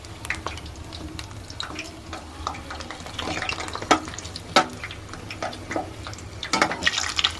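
Mirchi bajji fry in hot oil, a soft bubbling sizzle running underneath intermittent stirring and scraping clatter in the pan, quiet overall with a few sharper knocks toward the end.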